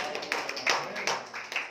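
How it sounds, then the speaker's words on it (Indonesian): A short burst of scattered clapping from a church congregation, claps irregular and overlapping, moderately loud with no voices. "Yang sepakat kita tepuk tangan bagi Tuhan."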